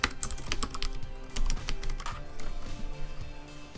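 Quick, close clicking of computer keyboard keys in short irregular bursts, a word being typed at a modest pace with no talking.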